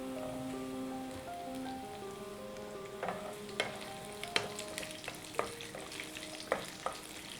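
Onions dropped into a pan of lightly fried garlic for chilli paneer give a soft, steady sizzle with scattered crackles and pops that grow more frequent, fairly quiet and close, with no one speaking.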